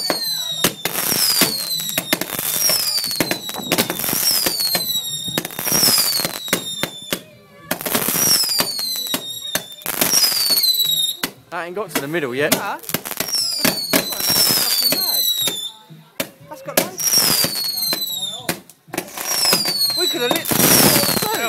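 Fireworks bursting outdoors in loud, rapid crackling volleys that recur in waves with short gaps between, while people talk nearby over the blasts.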